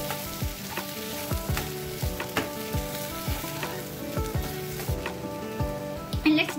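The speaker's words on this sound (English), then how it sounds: "I'm going to give it a nice stir so that the salt gets mixed well" Potato sabji sizzles loudly in a pan while it is stirred with salt, with repeated scraping strokes of the spoon at an uneven rhythm over constant frying crackle. The sound is close, and no one talks.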